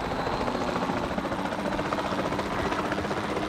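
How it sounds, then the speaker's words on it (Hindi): A helicopter in Jurassic World Evolution 2, a steady, dense rotor-and-engine roar that holds at a constant loud level without pauses. "अरे वो हेलीकॉप्टर कहाँ है, हमारा हेलीकॉप्टर लेके आओ"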